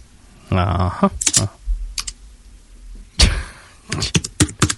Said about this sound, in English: When you pound on your keyboard, it's quite loud.